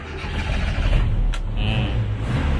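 A 1990 Toyota Kijang Super's warm engine being restarted, a low rumbling idle with a brief sharp click partway through, running steadily close by with no talk.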